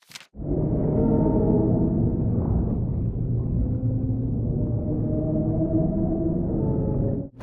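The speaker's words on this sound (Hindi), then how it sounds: "वैज्ञानिकों ने समुद्र के अंदर एक रहस्यमयी आवाज रिकॉर्ड जिसे द ब्लूप कहा गया" The Bloop, a deep, rumbling underwater groan recorded in the ocean, swells and holds for several seconds, low and resonant, then cuts off.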